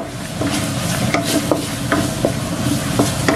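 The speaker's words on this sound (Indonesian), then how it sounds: "Kita aduk cepat ya. Kita aduk hingga mengental." A spoon stirs thickening potato croquette filling in a pan over heat, giving a steady close scraping and soft sizzle broken by repeated light spoon taps against the pan, with no voices.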